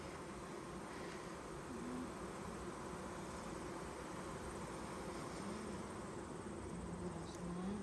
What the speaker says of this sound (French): là, on a beaucoup d'abeilles dans l'entrecouvert